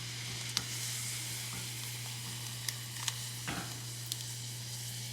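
Noodles drop into hot simmering ramen broth for a stew-style bowl, giving a steady close sizzle and bubbling hiss with a few light clicks and knocks of stirring, with no talk.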